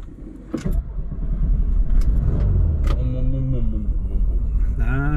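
A car engine turns over and settles into a steady low idle rumble after a brief click at the start, with faint clunks on top.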